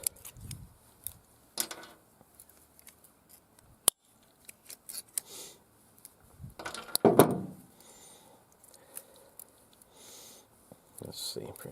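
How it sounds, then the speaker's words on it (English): Leftover bent wire pieces are snipped with cutters, giving a few sharp, isolated clicks and snaps close by, separated by quiet handling noises and some breathing. "I'll cut off these two real bent up pieces"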